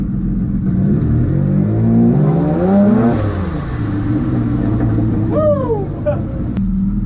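A twin-engine drag car, a Mazda MX-3 with a welded differential, idles and revs steadily up close, its engine note rising and falling as it warms up, with a brief higher whine near the end.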